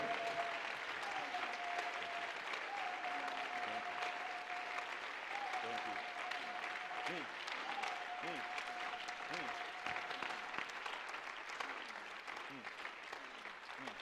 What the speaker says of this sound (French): Applaudis très bien pour le Seigneur.